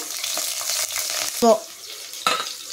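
Mustard seeds and green chillies sizzle steadily in hot oil, close and fairly loud, with a few stirring clinks and scrapes of a spoon against the pan.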